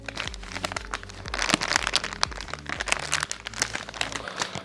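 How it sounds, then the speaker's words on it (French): Plastic packaging crinkles and crunches continuously up close while a parcel of small ordered items is unboxed, with dense irregular rustling and no voices. "Petit déballage d'objets."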